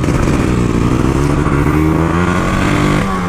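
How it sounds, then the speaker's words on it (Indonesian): A Yamaha RX King motorcycle fitted with a Kawasaki Ninja 150 engine revs loudly and close up. The engine holds a steady, buzzing high-rpm drone with a slight rise and fall in pitch, and no voices are heard. "Ini R-King special engine dengan full mesin ninja."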